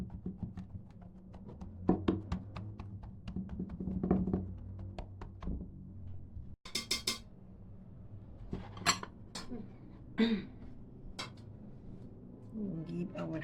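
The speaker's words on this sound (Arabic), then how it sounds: "دلوقتي هجيب الصاجة واحطها عشان نحط فيها الحشوة بتاعتنا" A metal baking tray being fetched and set down in a home kitchen while making pizza: scattered clanks, thunks and metallic clinks, with one sharp clatter midway, under a person talking.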